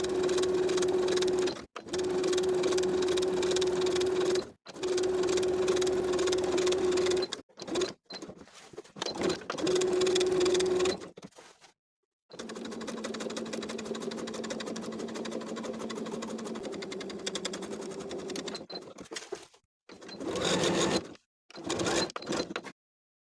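A sewing machine topstitches a jumpsuit collar in long steady runs, its motor whirring loud and even, stopping and restarting several times with brief pauses between bursts.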